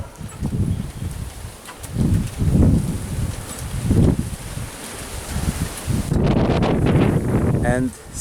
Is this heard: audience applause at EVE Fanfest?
no